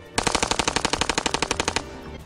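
Close, loud automatic burst from a Stechkin APS machine pistol, roughly twenty rapid shots in an even, fast rhythm, ending abruptly with a short fading tail.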